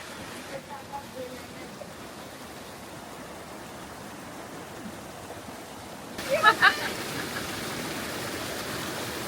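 Rushing high-water mountain stream and waterfall in the Georgian mountains near Kutaisi, a steady broadband roar that grows louder and closer after about six seconds, with faint brief voices mixed in.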